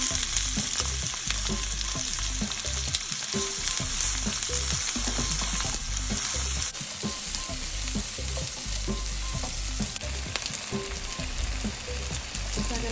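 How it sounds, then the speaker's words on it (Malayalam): Chopped onion hits hot oil where mustard seeds have just popped, frying for a mushroom cutlet; a loud, steady sizzle runs throughout with occasional stirring scrapes and no voices. "കടുക് പൊട്ടിയതിന് ഞാൻ ഉള്ളി ആഡ് ചെയ്ത് കൊടുക്കുകയാണ്."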